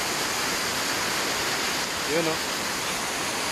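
River water pours steadily over small man-made falls at a mountain river resort in Oriental Mindoro, a constant, full rushing wash with a brief voice speaking over it.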